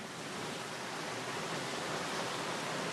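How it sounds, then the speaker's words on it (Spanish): Waves on a sea of deep blue water make a steady, dense, broadband roar. It holds the same level throughout, with no breaks and no voices. "Oleaje de un mar de intensas aguas azules."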